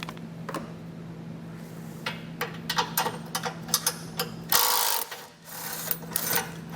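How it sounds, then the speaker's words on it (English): A socket wrench ratchets out the 18mm tow hook bolts on a 2015 GMC Canyon, a quick series of close, sharp mechanical clicks over a low background hum, followed by a short rush of noise. "So take a socket and wrench, and pull them"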